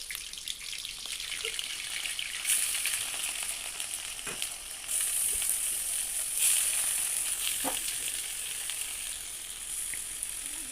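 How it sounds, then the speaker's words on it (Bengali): Chicken frying in hot oil, a continuous bright sizzle that swells and eases, with a few light clinks from the pan. "এবার মুরগি ভেজে নেব একটু"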